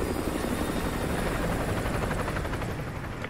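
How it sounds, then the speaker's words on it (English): An enemy helicopter in Call of Duty: Modern Warfare 2 thunders steadily overhead, a loud, constant rotor chop and engine roar filling the scene without pause. "Chopper inbound, keep low."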